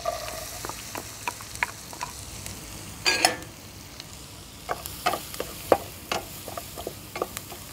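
Onion frying in butter or margarine for pork sisig gives a close, continuous sizzle broken by sharp crackles and pops, with brief bursts of stirring scattered throughout.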